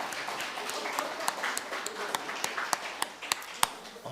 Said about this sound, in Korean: 서로 격려의 박수하겠습니다